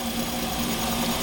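A Sandwich200 folding portable 3D printer with a 0.4 mm nozzle runs at 350 mm/s, giving a steady low motor hum with a faint whine, continuous and fairly quiet, with no talk.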